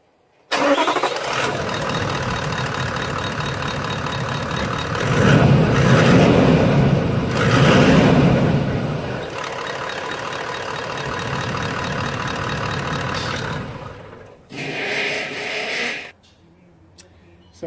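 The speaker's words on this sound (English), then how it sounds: "We'll just start the vehicle up, give it a few revs to double check everything's okay" A Toyota 70 series V8 Landcruiser diesel cranks and fires, then runs loud and close with a rough clatter, surging through a couple of revs before a brief dip, another rev and a settle toward idle.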